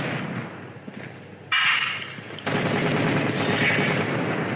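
Rapid automatic gunfire in the video game Rainbow Six Siege, loud, dense bursts that stop briefly and then resume in a harsh continuous stream, with no talk over it.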